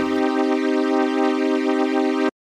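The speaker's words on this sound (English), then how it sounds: "this is the sound of a Solina, like a old string machine" A sustained chord from a Solina-style vintage string ensemble synthesizer, rich and even, held steadily before cutting off abruptly.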